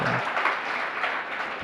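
Audience at a Jain religious discourse in Madavra clapping in a brief, steady burst of dense applause.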